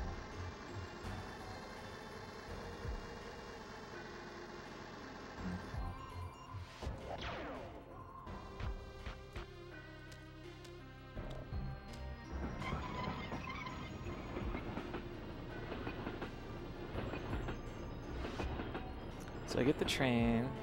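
Train rolling along and smashing through obstacles in the N64 game Blast Corps, a dense run of clattering rail noise and crashes over game music, with a voice talking throughout.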